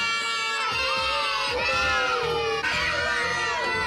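A toddler screams and shrieks continuously and loudly in a busy family home, the high-pitched cries rising and falling against a clamour of other children's shouting.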